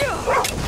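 A single short yelp from a dog in the video game Skyrim, quick and close, over a low background hum.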